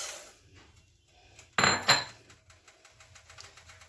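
Fried vermicelli stirred in a cooking pot with onion oil, a utensil scraping and knocking against the pot with one louder clatter midway over a low sizzle, close up.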